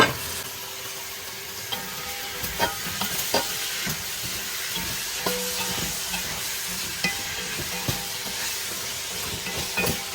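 Oxtail meat sizzles steadily in a pot for Jamaican cooking, with a constant frying hiss and repeated scraping, clinking stirs against the pot at close range, and no voices.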